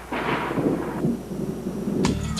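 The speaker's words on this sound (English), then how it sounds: "a loud noise, which we call thunder" A deep rumble of thunder rolls steadily along, with a sharper crackling burst near the end, loud and close amid broadband storm noise.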